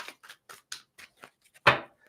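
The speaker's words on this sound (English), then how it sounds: "Give me 2 shuffles, please." A deck of tarot cards is shuffled twice, with a series of quick, crisp riffling flicks followed by one louder, fuller snap of the cards coming together, close up and without talk.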